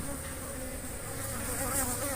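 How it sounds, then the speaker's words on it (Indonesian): Aggressive Apis cerana honey bees swarm around their hive at a bee farm, making a dense, steady buzzing drone that stays loud and close for the whole stretch. "Ini lebahnya agresif ini."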